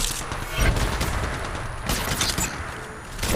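Gunfire in the mobile shooter Apex Legends Mobile comes as a loud, dense rapid burst of shots, repeated in clusters over a few seconds with no voices.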